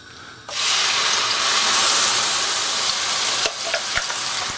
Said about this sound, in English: To that, I'm going to add the pepper and the onion and the garlic mix.